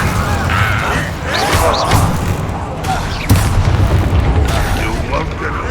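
A fire spell cast in the Hogwarts Legacy video game: a loud, close whooshing burst with booming impacts and mechanical crackle amid dense combat effects, with a brief voice in the mix.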